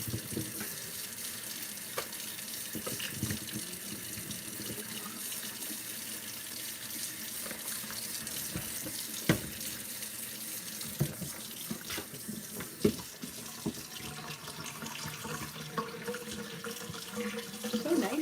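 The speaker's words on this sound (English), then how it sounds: "I have to clean out this filthy sink." Water runs steadily from a tap into a dirty sink during cleaning, a continuous close splashing rush with scattered clinks and knocks, and faint talk in the background.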